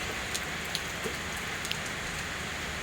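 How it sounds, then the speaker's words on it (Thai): Afternoon rain pours at a rural home in Thailand, a steady close hiss with occasional distinct drips tapping a surface, and nobody speaking. "บ่ายนี้เราฝนตกนะคะ"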